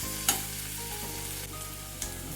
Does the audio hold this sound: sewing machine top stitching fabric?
no